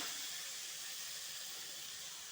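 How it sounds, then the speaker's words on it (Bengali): Fish heads frying in hot oil in a home kitchen give a steady, even sizzling hiss that runs unbroken and fairly quiet, with no voices over it. "এই যে মাছের মাথা ভাজা হচ্ছে"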